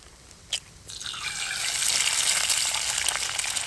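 An egg smashed into a hot, poorly seasoned pan with crispy bacon on an outdoor cook, a sharp crack followed by a rising, steady loud sizzle and spatter.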